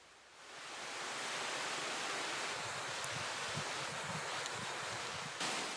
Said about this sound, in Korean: 삼나무 숲을 지나 이내 복례폭포에 다다랐다